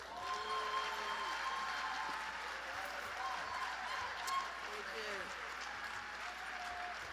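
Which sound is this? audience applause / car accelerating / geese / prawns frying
audience applause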